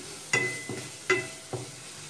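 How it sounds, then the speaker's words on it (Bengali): Ginger garlic paste dropped into hot oil, with sharp sizzling bursts as each spoonful hits the pan, followed by quieter crackling between additions while it begins to fry for a Kolkata-style egg chicken roll. "তেল গরম হয়ে গেছে, এবার তাতে দিয়ে দিচ্ছি আদা রসুনের পেস্ট"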